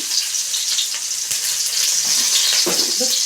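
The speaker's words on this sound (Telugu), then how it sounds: "ఇప్పుడు ఎర్రగడ్డ వేసుకున్నాము, అలాగే పచ్చిమిరపకాయలు ఒక 5" Onions and green chillies fry in hot oil with a steady, close hiss, punctuated by a few brief stirring scrapes near the end.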